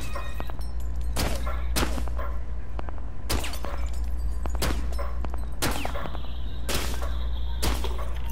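Gunfire in the video game Rainbow Six Siege aimed at bottles, heard as about eight sharp, loud single shots spaced irregularly over a constant low rumble.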